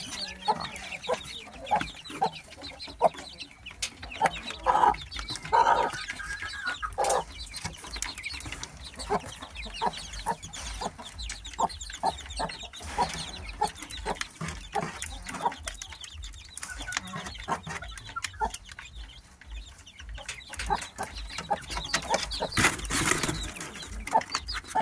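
Week-old chicks hatched from free-range hens chirp and peep continuously in many short, rapid calls, close and busy throughout, with no talk heard.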